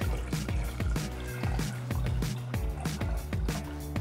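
Water poured into a cooking pot to make polenta, a steady liquid fill with dripping, trickling splashes running continuously and close by, with no talk over it.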